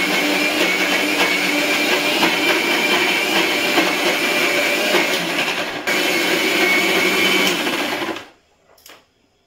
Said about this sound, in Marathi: मिक्सर मध्ये तर काढून घेते